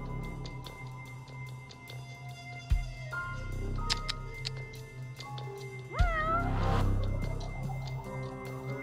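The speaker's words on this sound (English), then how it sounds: "Why do I always hear cats? Are these my cats that keep making this sound?" Repeated cat meows rise and fall over a busy bed of game music and effects, with two sharper bursts partway through; the cries sound fairly close but stay partly blended into the background.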